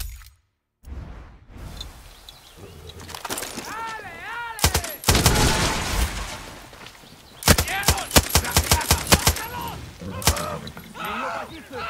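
Machine gun fire in the video game Far Cry 6, loud rapid bursts of shots in clustered volleys alongside other game effects, with someone talking over the action.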